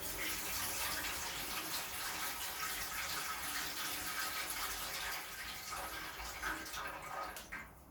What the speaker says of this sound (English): I'm gonna add a tray and fill it up with water.